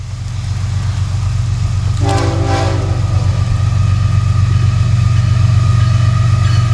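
A heavy Florida East Coast Railway freight train rumbles steadily past close by, rounding a curve into New Smyrna, its deep horn sounding one long blast partway through over the constant roar of wheels.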